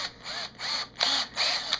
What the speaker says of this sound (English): Take and drill two holes in the back,